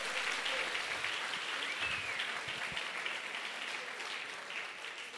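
Church congregation applauding together, a dense, steady wash of clapping that stays loud throughout and tapers slightly toward the end, with no talking over it.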